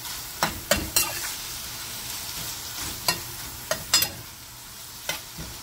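Bitter gourd sizzles steadily in a hot pan while a utensil scrapes and stirs it in a few sharp, irregular strokes.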